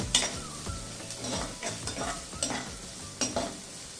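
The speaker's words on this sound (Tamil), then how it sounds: "ஆனியன் வந்து கொஞ்சம் நல்லா வதங்கணும்." Finely chopped onions sizzle in hot oil in a pan as prawn gravy is cooked at home, with repeated scraping stirs of a spatula knocking against the pan in an uneven rhythm, close and clear without talk.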